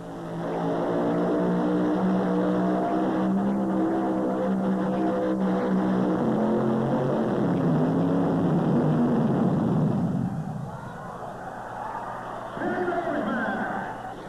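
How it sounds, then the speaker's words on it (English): A pulling tractor's engine roars loudly and steadily at a tractor-pull event for about ten seconds, then drops away to quieter rumbling with faint background voices. "Jim Carter has been putting his tractor to the test for 8 years now"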